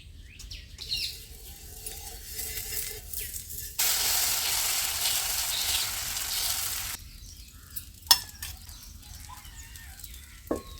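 A dosa cooks on a hot pan, giving a steady broadband sizzle that swells for a few seconds and then cuts off, followed by a few sharp metallic clinks and scrapes.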